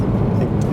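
A Porsche 996 fitted with a Hartech 3.7 engine on the move, heard from inside as a steady low engine drone with road rumble, brief and fairly loud, with no talking.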